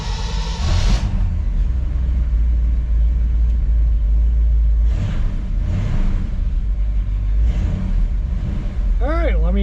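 1969 Buick engine running, a loud deep idle rumble heard close with a couple of brief surges, someone talking over it and a high whine toward the end.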